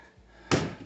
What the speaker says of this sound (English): Let's make sure the door opens up.